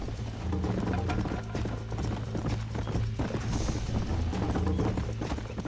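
Hooves clip-clop steadily as a horse gallops during a race in the video game Red Dead Redemption, a continuous fast rhythm with dense background game sound throughout.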